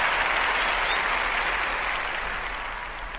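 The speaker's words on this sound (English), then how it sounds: "Round of applause, Dennis Rodman" A round of applause for Hall of Famer Dennis Rodman on an NBA podcast, a steady, even wash of clapping that fades slightly toward the end, with no talk over it.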